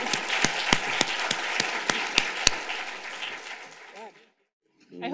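Conference audience applause with scattered sharp claps fills the first four seconds, then cuts off into near silence before a voice begins speaking.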